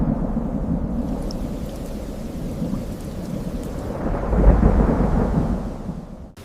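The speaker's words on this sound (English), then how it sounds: "Rain fell, perhaps for thousands of years without stopping" Steady heavy rain pours down without pause, with a low rumble of thunder swelling in the middle and fading again, a dense continuous wash of sound.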